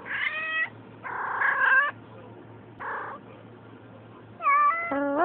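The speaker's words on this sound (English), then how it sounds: "My kitty." A pet cat meows several times in drawn-out, varied calls, close and fairly loud, with a quiet low hum underneath between cries.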